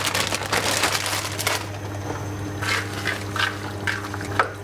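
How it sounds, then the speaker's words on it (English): Frozen peas, corn and carrots tumble into a pot of cottage pie filling, a dense rattling pour for about a second and a half, then softer settling sizzles and a few light knocks. "we're going to add about 500 grams of peas, corn and carrot"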